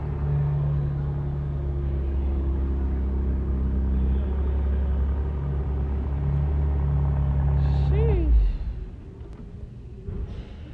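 A Porsche Cayman Turbo engine runs with a deep, steady, close rumble for several seconds, then cuts off abruptly, leaving near silence.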